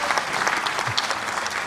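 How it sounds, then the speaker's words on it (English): A brief burst of dense clapping from an audience at an ISKCON initiation ceremony, even and continuous with scattered sharper claps, heard at a moderate distance. "And a round of applause for my mom."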